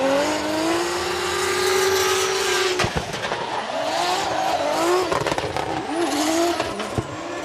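A race car engine roars at Suzuka Twin Circuit during qualifying, loud and close, holding a steady high rev, with brief tire squeals and sharp shifts breaking up the continuous drone, and no talk.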